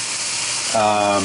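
Chuck roast steak searing in a cast iron skillet over medium-high heat, a steady close sizzle and hiss that swells louder partway through, with a brief voice under it.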